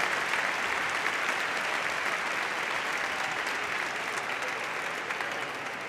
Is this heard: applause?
yes